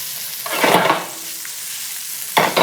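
Food gently warming and softening in a pan over very low heat, a quiet sizzle with brief stirring scrapes at intervals, heard alone with no talk.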